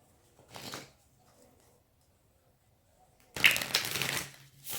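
Tarot cards being shuffled, two bursts of quick riffling and flapping, a short one early and a longer, louder one near the end, separated by near silence.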